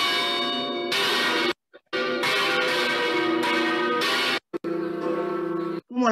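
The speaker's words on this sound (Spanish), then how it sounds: "Todas las campanas." All the church bells, rung by hand, clang together in a dense, overlapping peal, loud and reverberant, broken by a few short silences before the ringing resumes.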